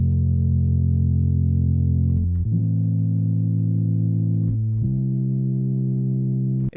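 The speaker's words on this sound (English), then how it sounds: "It's just a really warm and mellow set of EDM pads." Sustained, warm synth pad chords, soft and mellow, shifting through three chord changes with smooth held tones and no percussion.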